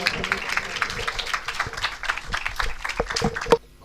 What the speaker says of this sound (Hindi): जोरदार तालियां जी पादरी साहब